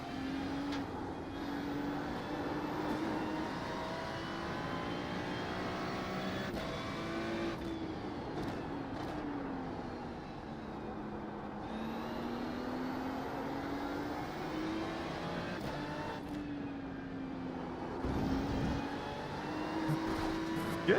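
IMSA race car engine at Spa in the iRacing sim, a steady droning whine that rises and falls with gear shifts and throttle lifts, running continuously and fairly loud throughout.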